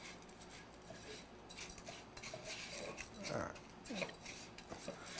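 Chocolate risotto rice stirred in a pot with a utensil, giving soft scraping and occasional clinks against the pot over a steady background hum.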